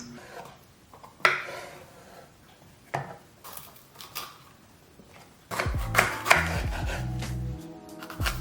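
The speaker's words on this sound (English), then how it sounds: "I always like to get my veggies cut up first." Vegetables being chopped with a knife on a cutting board while prepping a vegan chili, sharp irregular knocks of varying loudness, with heavier, busier clattering toward the end.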